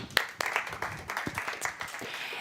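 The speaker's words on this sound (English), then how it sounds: "Round of applause to Alexei" Applause at a Deep Tech Night pitch event, following a candidate's presentation: a scattered round of clapping from the audience, with sharp individual claps standing out and faint voices mixed in.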